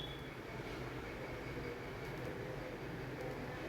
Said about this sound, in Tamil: திருநெல்வேலி ஜங்ஷனுக்கு வந்திருக்கோம். ரயில் நிலையம் இது